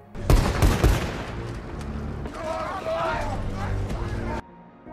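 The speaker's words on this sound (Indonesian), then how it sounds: "tanpa ampun, mereka langsung ditembak mati di tempat" Gunfire in a wartime setting where soldiers are shot: a burst of several loud, close shots at the start, then a sustained rumbling din of battle that cuts off abruptly near the end, with voices mixed in.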